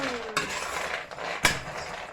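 A spoon scrapes and clinks against a heated pan on the fire while cocoa is stirred, with two sharp metallic knocks standing out over a soft, close scraping.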